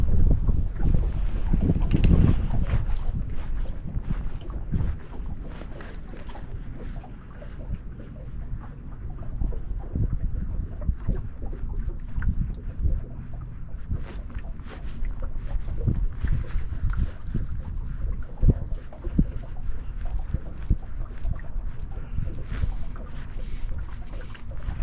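Freshening wind buffets a small fishing boat in the shallows, loud gusty rumble and microphone wind noise rising and falling continuously, with occasional knocks and creaks.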